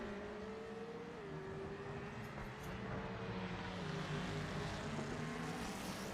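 Engines in a racing video game hum in a soft, steady drone, with one pitch gliding gently upward as a car accelerates under the faint background.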